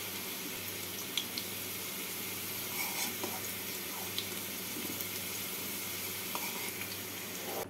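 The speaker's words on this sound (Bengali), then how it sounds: "আলুগুলোকে আমি এইভাবে লাল করে ভেজে নিলাম।" Potatoes frying in oil in a pan, a soft steady sizzle at low level with a few scattered clicks and pops, no one speaking.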